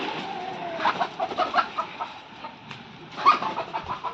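Chickens clucking and squawking as they are chased around a yard in the morning, a series of short agitated calls rising and falling at moderate distance over a faint background hum.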